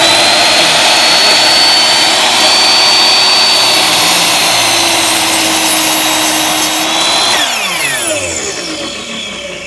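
A mitre saw motor spins up to a loud, high-pitched whine and holds steady at full speed, then begins winding down toward the end. It is close and loud, with no talking.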